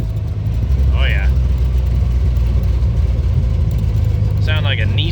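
A 1956 Willys Jeep CJ5 roars along close and loud while driving, its engine note shifting through downshifts, with two short bursts of voices over the steady rumble.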